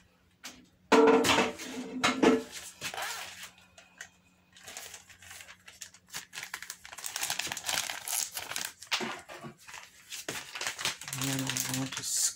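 A plastic bag crinkles and rustles in bursts while being handled in a home kitchen during milk preparation, loud and close, with quiet gaps between.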